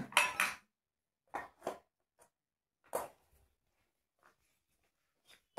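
A metal cooking vessel handled in a village home gives a few sharp, close clinks and clatters, one brief burst then several isolated knocks separated by quiet gaps.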